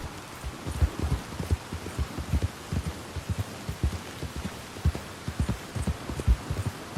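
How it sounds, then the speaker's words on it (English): Steady heavy rain in Red Dead Redemption 2 with irregular thumping impacts pattering close by, continuous and fairly loud, no voices. "It's raining cats and dogs."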